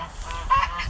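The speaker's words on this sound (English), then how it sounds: "Tony, it's the geese. They're being really loud" Geese on a small farm honk close by, a short nasal call rising out of faint background noise, with no talking.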